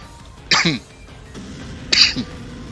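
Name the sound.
cough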